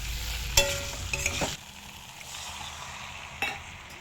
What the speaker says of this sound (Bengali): এবার ভেজে রাখা আলু আর ডিমটা দিয়ে দেবো এর ভেতরে